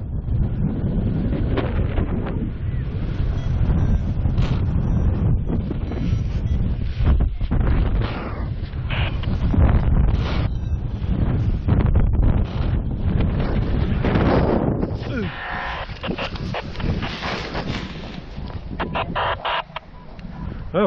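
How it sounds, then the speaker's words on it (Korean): Strong wind buffets the microphone during a paragliding flight, a loud, continuous roar with rough gusting surges that lasts throughout the clip. "아, 바람이 세져서 착륙했어요."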